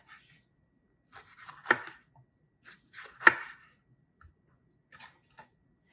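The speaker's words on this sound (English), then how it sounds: "We're going to finely chop them so it goes easy in the quiche" A knife finely chops bell pepper on a board for a quiche, sounding as a few sparse, crisp close strikes, two louder than the rest, with quiet gaps between them.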